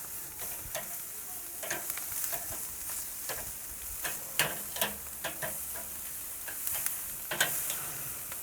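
Hanging tender beef steaks sizzle steadily in a pan as they are flipped, with several sharp clicks and taps of tongs or a spatula standing out above the even frying hiss.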